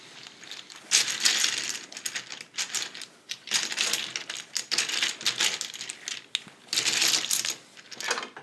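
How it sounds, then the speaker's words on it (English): Scrabble tiles rattling and clicking as they are drawn from the cloth bag during a game, a close, busy run of plastic clacks and shuffles in several bursts with short pauses. "player then draws 7 tiles from the bag and places them on their tile rack"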